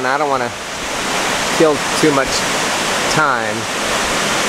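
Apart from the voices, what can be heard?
waterfall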